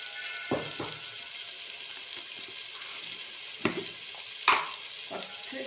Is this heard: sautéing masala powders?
yes